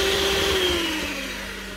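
An electric mixer whirs steadily through cake rusk batter with vanilla essence, a loud continuous motor drone whose pitch slowly drops as it runs.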